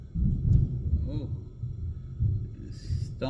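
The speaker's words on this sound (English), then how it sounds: "Thunder again." Low, rolling thunder from a storm outside, a continuous deep rumble that swells and fades over a few seconds, heard from indoors.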